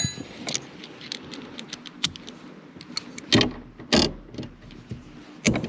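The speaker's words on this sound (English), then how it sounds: "I'm gonna try to loosen those two 10mm bolts and see what that does." A socket wrench loosens 10mm bolts on a 2013 Mazda CX-5 power seat, making quiet metallic clicks and ratcheting taps with a few sharper clanks close by.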